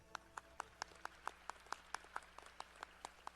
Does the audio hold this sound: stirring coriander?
no